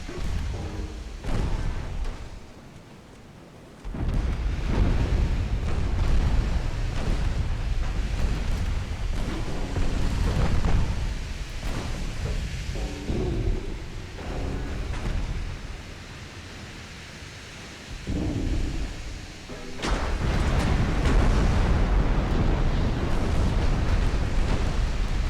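High explosive shells burst during a naval battle in a Portugal Great Game campaign, heavy rumbling blasts and roaring booms rolling continuously, loud and dense, with brief quieter gaps before fresh bursts.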